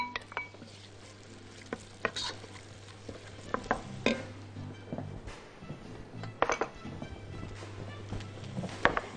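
Onions fry in a pot for Libyan soup and are stirred now and then, a steady low sizzle broken by scraping and knocking of the spoon against the pot, close and fairly quiet.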